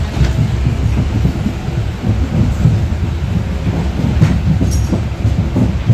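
A passenger train rolls toward Vaibhavwadi station, making a loud, continuous low rumble with rhythmic clatter of wheels on rails, heard from inside a carriage with no voices.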